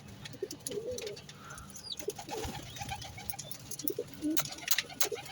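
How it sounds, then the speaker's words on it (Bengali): Soft, low cooing from a shy, unpaired pigeon in the corner of a pigeon farm, repeating in short throaty phrases over a busy background of other birds and farm noise. "সবচেয়ে লাজুক কবুতরটা হচ্ছে এটা"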